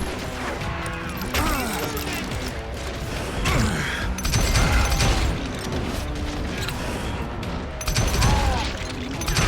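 Gunfire and clanking mechanical crashes in the Western shooter Call of Juarez Gunslinger, with repeated loud bursts and booms over roughly ten seconds of busy game action.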